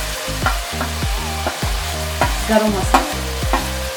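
Spices for chicken curry frying in a pan as a spoon stirs them in repeated scraping strokes, a steady close sizzle running underneath, with a brief spoken word.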